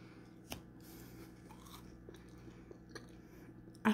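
Someone quietly chews a Little Debbie Star Crunch, the chocolate-covered crispy snack, with soft crunching bites and a few sharper crackles scattered over several seconds, ending with a louder close crunch.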